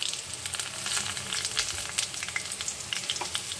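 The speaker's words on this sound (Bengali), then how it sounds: "এরপরে দেখো আমি দিয়ে দেব শুকনো লঙ্কা, জাস্ট ফোড়ন হিসেবে" Whole cumin and dried red chillies tempering in hot oil in a karahi, a steady crackling sizzle with sharp little pops spread throughout, close up and alone with no voices.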